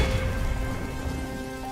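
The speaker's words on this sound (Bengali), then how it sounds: "ঝড়ে যে সব ভেঙে পড়ছে।" A heavy rainstorm in a cartoon pours down as a loud, dense hiss of rain on surfaces, accompanied by a sustained musical tone, with no talk over it.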